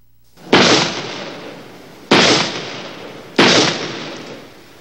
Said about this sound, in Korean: 총성을 울리셨습니다.